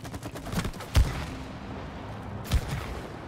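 Gunfire in the co-op video game It Takes Two: two sharp, punchy shots about a second and a half apart over a low, busy game soundscape.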